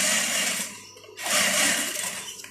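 A sewing machine stitches the zipper fly of shorts, running in two close, loud bursts with a short pause between them and no talking.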